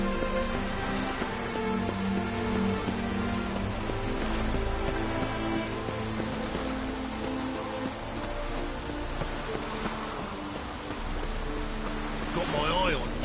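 Steady rain falls throughout a scene in the video game The Witcher 3, a constant hiss of raindrops under low ambient sound, with a voice speaking near the end.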